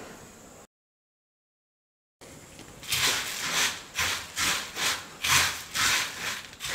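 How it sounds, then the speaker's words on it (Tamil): Roasted puffed rice being stirred with poured jaggery syrup in a wide vessel, giving a run of loud, rhythmic scraping and rustling strokes close by after a brief gap of silence, with no talking. "இப்போது வறுத்து வச்சுருக்கிற பொரியில் வந்து ரெடி பண்ணியிருக்கிற பாகை மொத்தமாக ஊற்றி நம்ம கிளறிக்கலாம்."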